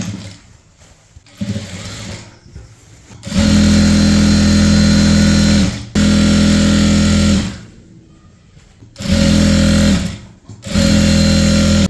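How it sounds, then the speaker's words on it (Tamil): A sewing machine stitches a maxi dress seam in loud, steady bursts of a few seconds each, stopping and restarting several times with quiet pauses in between. "நான் தைச்சிட்டு காமிக்கிறேன்"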